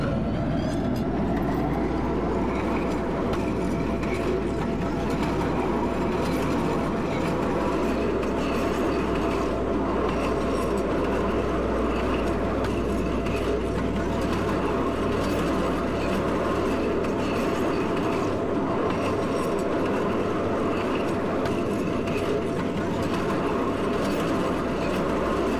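A CTA Series 5000 Red Line train in the Roblox CTA Train Simulator runs steadily, giving a continuous loud rumbling roar with a faint whine and rail clatter and no announcements or talk.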